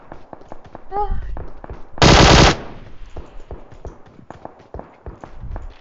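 Rapid automatic gunfire from the mobile battle-royale shooter PUBG Mobile, a loud dense burst of shots near the middle amid scattered single cracks and game noise.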